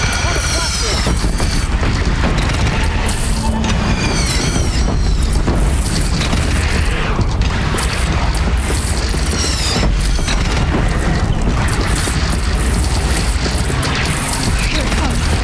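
Heavy booming cannon shots in the video game Horizon Zero Dawn, repeated blasts amid dense battle noise and clanking mechanisms, loud and continuous, with voices calling out over the action.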